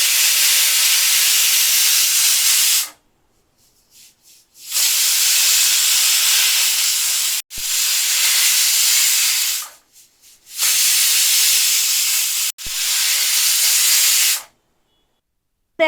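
Pressure cooker on a stove cooking mutton curry with potatoes, releasing loud steady hissing steam whistles in four long bursts separated by brief silences, with no talk.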